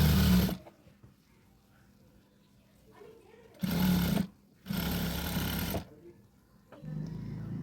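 A sewing machine runs thin stitches along reversed cloth in short separate bursts, its motor whirring loud and close for a second or so each time, with quiet pauses between runs.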